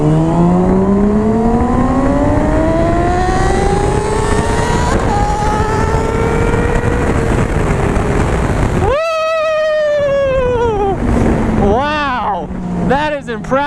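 Yamaha R6 and Honda CBR600RR 600cc sport bikes accelerating hard from a second-gear rolling start, engines screaming up through rising revs with gear changes, loud and close, then a brief drop and renewed high-pitched revving.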